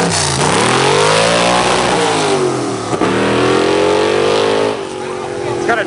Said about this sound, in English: Jeep V8, rumble, rumble.